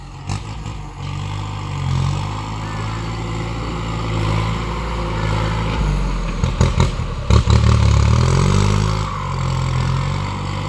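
A heavy tractor engine rumbles loudly and steadily, drawing closer, with clanking and a brief surge in revs.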